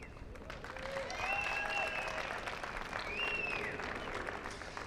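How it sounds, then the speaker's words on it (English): Audience applause at a pickleball championship Sunday on the APP tour in New York City, steady clapping throughout with whistle-like tones and a faint voice underneath. "we want to give everybody a huge round of applause"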